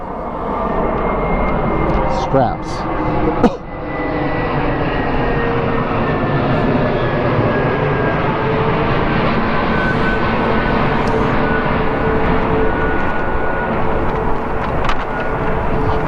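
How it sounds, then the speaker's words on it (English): A jet airplane roars overhead outdoors during a hiking-gear demonstration, a loud, steady, broad engine drone that holds for the whole stretch with a slowly sliding pitch, while a voice briefly speaks near the start. "Let me wait till this jet goes by"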